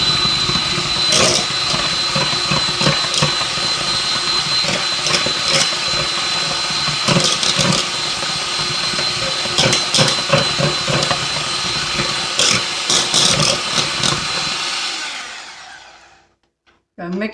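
An electric mixer whirs loudly and steadily through rhubarb coffee cake batter in a home kitchen, with periodic rattling knocks against the bowl, running for about fifteen seconds before cutting off abruptly.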